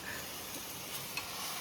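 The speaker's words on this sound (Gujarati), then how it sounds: "ડુંગળી મરચાં લસણનો વઘાર કરી અને હવે નાખી દીધા બટાકા અને ડુંગળી" Onion, chili and garlic tempering in oil for khichdi, cooked outdoors in a mountain area, give a faint, steady low sizzle with no one talking.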